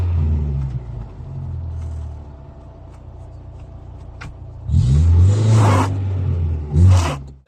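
A Nissan stuck in a muddy field has its engine revving hard as it tries to drive out, first a strained low drone that fades, then two loud surges of acceleration with spinning, scraping bursts.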